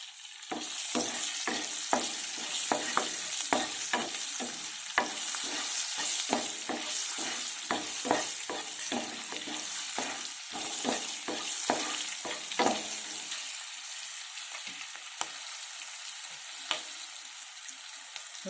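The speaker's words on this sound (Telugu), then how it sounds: "ఇప్పుడు ఈ ఆయిల్ ఉంది కదా దీంట్లో పచ్చిమిర్చి వేసుకుందాము" Green chillies fry in hot oil for an egg curry, a steady crackling sizzle punctuated by frequent sharp stirring scrapes and clicks, close and loud, with no voices.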